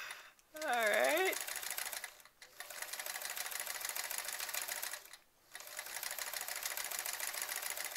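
A sewing machine stitching a quilt runs in steady rapid mechanical bursts, pausing briefly twice, close and clear, with a short whistle-like sound near the start.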